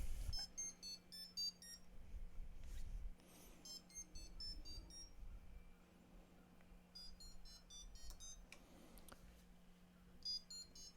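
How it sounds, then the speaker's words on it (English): Quick bursts of high electronic beeping from a Meshtastic device's external notification buzzer come and go in short clusters over a low steady hum, fairly faint throughout. "we should receive some external notifications from both the RGB LED and the buzzer"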